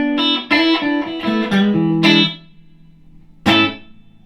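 An electric guitar is played through a Harmony H650 amp with reverb set low, around 2: a few clean plucked notes and a strummed chord ring out, leaving a short, subtle tail before one final chord.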